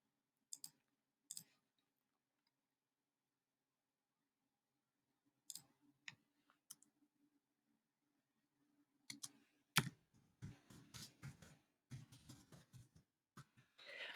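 Computer keyboard typing in quiet bursts of soft clicks, scattered at first and then a denser run of keystrokes near the end, faint and close with no talk.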